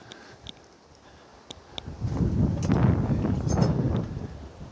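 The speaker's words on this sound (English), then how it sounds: "Today there's a bit more wind than there's been so far." Gusty seaside wind at a campsite overlooking the sea, starting light and then swelling into a steady low buffeting rumble against the microphone for the second half, with no voices.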